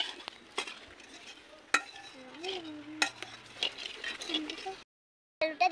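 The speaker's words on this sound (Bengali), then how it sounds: "পুরোটাই আমি শুকনো লঙ্কা দিয়ে দিলাম, দিলাম তেজপাতা, গোটা জিরা, ভালো করে নেড়ে নেব।" Dried red chillies, bay leaves and whole cumin stirred in hot oil in a pan, a soft sizzle broken by scraping clinks of a spoon, close by, with a brief pause near the end.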